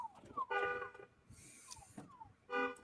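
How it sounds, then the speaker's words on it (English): A car alarm in the video game Days Gone blares in repeating bursts of falling electronic tones and chirps, close and clear, with short gaps between cycles. "So one of you see this car alarm that's going off here."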